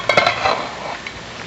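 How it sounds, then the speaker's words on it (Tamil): Variety rice is stirred with a metal spoon in a freshly opened pressure cooker, giving a few clinks at the start and then soft scraping and rustling, close and alone. "இப்போ கிளறி கொடுக்கலாங்க."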